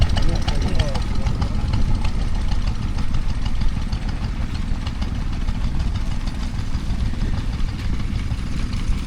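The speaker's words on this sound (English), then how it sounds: "I'm gonna have a look at the stationary engines right now." Vintage stationary engine running steadily at a country show near Ringmer, Sussex, a continuous close low rumble with a faint rhythmic beat throughout, mixed with outdoor crowd noise.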